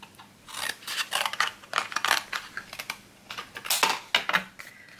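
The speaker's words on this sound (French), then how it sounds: "je vais découper un morceau de cartonnette que je vais coller à l'envers, à l'arrière" Scissors snipping through a piece of cardboard for a scrapbook album, a quick series of close, crisp cuts and crunches with short gaps between them.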